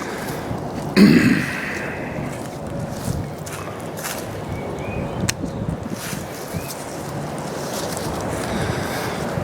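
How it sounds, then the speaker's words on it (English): Steady wind blowing outdoors around a young fruit tree, a constant broadband rush buffeting the microphone, with a brief thump near the start. "I'm going to try to block the wind here"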